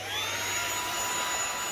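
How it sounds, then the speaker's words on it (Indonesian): A battery-powered vacuum cleaner runs on a floor in eco mode, giving a steady high whine and airy rush, close and continuous with no talk. "sekarang kita akan coba menggunakan vacuum cleaner"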